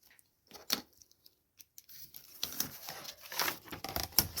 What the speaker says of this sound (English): And I'll just cut that top bit off.